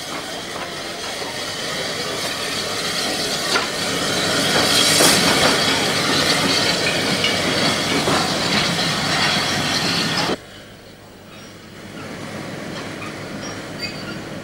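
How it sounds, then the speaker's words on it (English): Narrow gauge steam locomotive No. 5, a small 0-6-2 compound tank engine, rolls into a port station in Spain, with a steady rumble of wheels and hissing steam that swells midway, then drops off sharply near the end. "O62 number 5 rolls into the port station."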